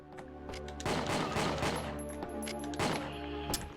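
Gunfire in the Winback: Covert Operations video game, a rapid string of loud booming shots in bursts with game music tones beneath, continuous and close, with no talking.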